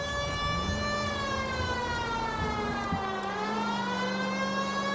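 Police siren in the video game L.A. Noire, a loud continuous wailing tone with slow rising and falling pitch, heard alone over a steady engine-like drone.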